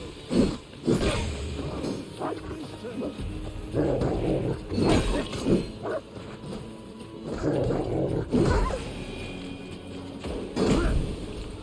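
A dog in the video game Assassin's Creed Valhalla barks and growls in repeated bursts, mixed in with thumps and scuffles from a nearby fight, while no one speaks.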